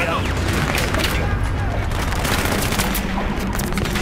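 Battlefield 3 gunfire rattles without pause: dense overlapping bursts of automatic weapons and heavy booms fill the whole stretch at a steady, loud level, with no quiet gaps.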